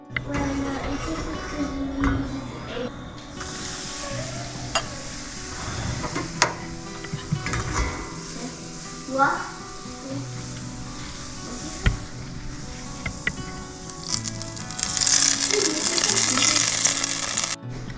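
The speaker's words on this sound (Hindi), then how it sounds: "दाल के ऊपर मैं थोड़ा सा तड़का लगाऊंगी, बस घी और चिली पाउडर का" Hot ghee with chili powder sizzles and crackles steadily as a tempering over a pot of dal, with a few soft clinks and stirring sounds; the frying hiss grows brighter toward the end.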